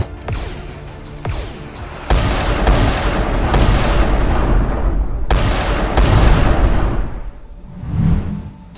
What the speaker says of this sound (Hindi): उधर शिप के अंदर से स्मगलर लगातार फायरिंग कर रहे थे